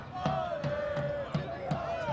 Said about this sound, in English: You can hear the home crowd chanting.